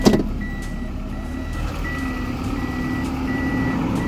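A vehicle that had broken down on the road is put into reverse, setting off a loud, steady series of evenly spaced reversing beeps over a running engine rumble.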